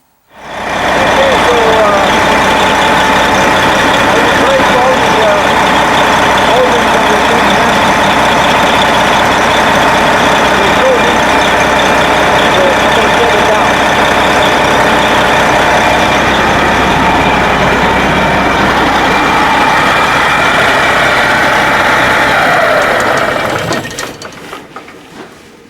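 A diesel truck engine, freshly primed after a fuel leak at the filter housing, runs at a steady, loud, even idle for over twenty seconds before cutting off abruptly.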